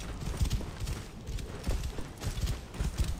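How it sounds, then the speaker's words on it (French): Horse hooves clip-clop in a steady walking rhythm as the animal follows the player in Assassin's Creed Origins, fairly close and moderately loud, with no talk over them. "C'est rigolo ça de se faire suivre par le cheval en même temps."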